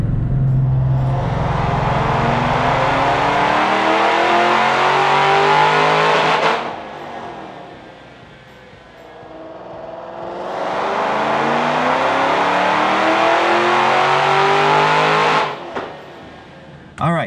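Supercharged Ford GT500 engine on a chassis dyno makes two long full-throttle pulls. Each loud roar climbs steadily in pitch, then drops away, with a quieter lull between runs.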